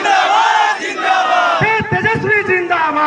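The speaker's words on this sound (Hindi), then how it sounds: "तेजस्वी जिंदाबाद" A rally crowd loudly chants zindabad slogans at a political gathering in Bihar, voices in unison with rhythmic shouted bursts, close and forceful, one call answered by many.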